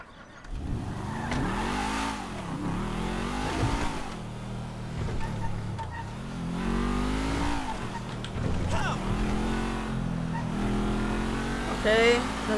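A car engine in the video game GTA 5 drones steadily and rises and falls through revs, with occasional tire squeal near the end. A voice talks over it throughout.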